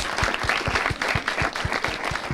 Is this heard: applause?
yes